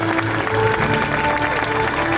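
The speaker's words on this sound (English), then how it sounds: "Let's all clap for our winners," Parents clap for prize winners at a pre-primary school fest and carnival: a brief burst of dense, steady applause with some tonal background sound.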